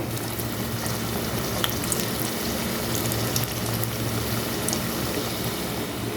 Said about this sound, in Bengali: এই যে এভাবে আমরা পাকোড়াগুলি দিয়ে দিব